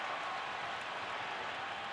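Stadium crowd at an NFL American football game, Patriots at Broncos: a broad, steady roar of many distant voices and cheering fills the air without a break.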